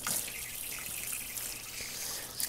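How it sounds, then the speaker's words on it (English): Tap water runs steadily into a kitchen sink while a hand is rinsed under it, a close, continuous hiss and splash with slight shifts as the hand moves. "Just going to rinse my other hand off."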